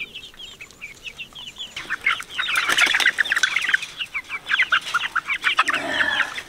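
Chickens on an off-grid homestead in Alaska, being herded back into their coop, cluck and squawk repeatedly while wings flap in bursts, loud and close with busy overlapping calls.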